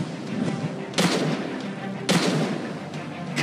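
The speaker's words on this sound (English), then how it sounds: "Cannon!" Cannon fire in the mobile battle game Fort Squad Royale Battle: two heavy booming blasts about a second apart, then a third just starting, each with a sharp broadband onset over a constant rumbling battle din.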